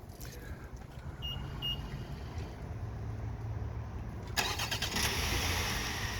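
A 2021 BMW X1 F48 engine fires up by remote start after a few seconds of quiet outdoor ambience, cranking briefly and then settling into a steady idle, close and fairly loud.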